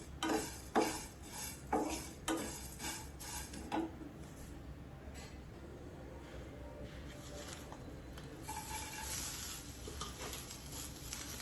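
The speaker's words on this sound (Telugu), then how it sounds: "ఇవి కూడా లైట్ బ్రౌనిష్ వచ్చే వరకు ఫ్రై చేసుకోండి." Tamarind and spices being fried and stirred in a pan, with a run of sharp metallic clinks and scrapes from a spoon against the pan early on, then softer steady sizzling and occasional knocks.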